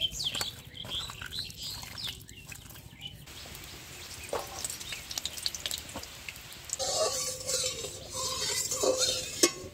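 Small banspata fish from a Sundarbans river being rubbed by hand with salt and turmeric outdoors, making soft wet squishing and rustling close by, with birds chirping around and no speech.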